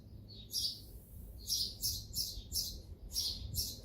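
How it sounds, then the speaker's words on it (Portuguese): Small birds chirp outdoors beside a home studio in short, bright bursts of tweets, repeating in a loose rhythm over a low, quiet background hum. "os passarinhos estão aqui cantando de fundo"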